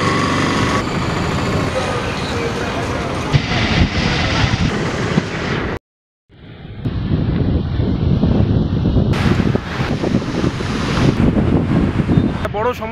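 Strong wind buffets the microphone on a sea beach at Puri, with rushing surf and waves beneath, loud and continuous apart from a brief dropout midway; a voice speaks faintly at times.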